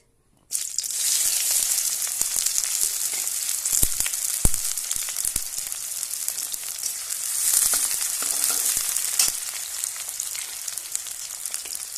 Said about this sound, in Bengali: তেল গরম হয়ে গেছে, দিয়ে দেবো পেঁয়াজ।